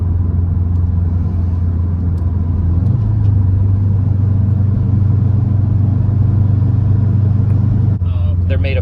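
A 2010 Subaru STI pulls in fourth gear during a tuning run, its engine a loud, steady low drone heard from inside the car that steps up slightly in pitch, holds, then cuts off near the end.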